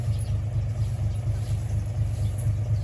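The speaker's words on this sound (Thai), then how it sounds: "เดินไปแถวข้างหลังรถให้ชินกับเสียงรถน่ะ" A car engine idles with a steady, low, even rumble, close by and continuous.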